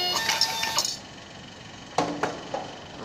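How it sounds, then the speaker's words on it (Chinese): A Zebra label printer on an automatic case labeling machine whirs briefly and mechanically, then falls quiet before a few sharp clicks and clacks follow near the close, with no one talking. "就是打印机，然后它在打印。"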